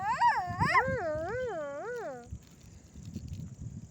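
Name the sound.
child imitating a dog barking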